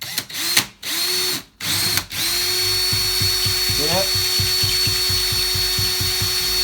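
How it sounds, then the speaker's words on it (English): A power drill bores a pilot hole into drywall, whirring in short bursts, then running steadily for several seconds, its motor pitch wavering with rhythmic pulses close by. "So drill first with a pilot hole in your drywall"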